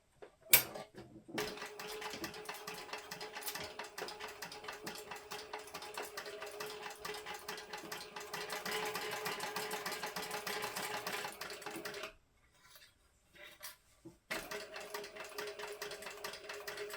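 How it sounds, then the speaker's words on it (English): A sewing machine bastes a fabric flap for a handmade book sleeve, right sides together, running in a long steady whir of rapid stitching, then stopping briefly before short bursts and a second stretch of running. "we're going to baste our flap right sides together"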